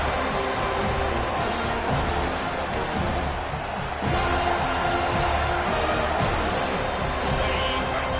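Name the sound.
home crowd cheering at football game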